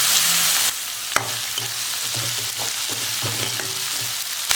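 Onion, green chilli and garlic sautéing in oil in a pan for drumstick egg thokku: a loud, constant sizzle with sharp spatula scrapes and clicks scattered throughout.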